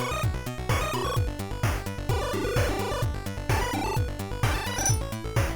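Chiptune from a C program on the WASM-4 console pulses loudly and dramatically, with bright stacked square-wave tones and a bass line that bounces under a regular thumping beat, heard alone and steady throughout.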